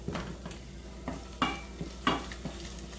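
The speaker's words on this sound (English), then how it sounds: "I've got these shallots and garlic cooking" Shallots and garlic cooking in a pan give a steady, quiet sizzle with a few soft stirring scrapes and clinks, close by, with no one speaking.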